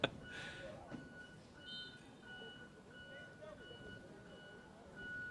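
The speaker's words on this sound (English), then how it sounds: "We also have a large truck or bus backing" A large truck or bus backs up at a school soccer game, its steady reversing beeps sounding faintly in the distance under people talking and crowd noise.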